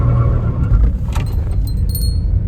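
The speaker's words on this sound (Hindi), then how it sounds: "अभी मैं इसको लॉन्च करके दिखाऊंगा कितनी तगड़ी तरीके से लॉन्च होती है।" A second-hand VW Polo with over 100,000 km and its engine warning light on launches hard, its engine roaring loud and close and nearly constant, with a jangling rattle over the top and no speech.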